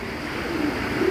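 Low, soft coos of Giribaz pigeons at a pigeon market repeat over a steady background hum, close by and fairly quiet.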